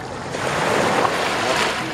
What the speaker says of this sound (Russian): И волна, дорогие друзья. Есть и волна.